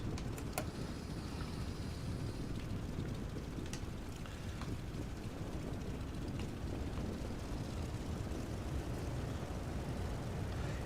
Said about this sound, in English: We're going to goose it and try to get a fast takeoff